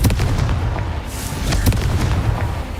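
The Confringo fire-blast spell in Hogwarts Legacy goes off as a loud, dense burst of booming, crackling explosions that rumble on without a break for the whole stretch.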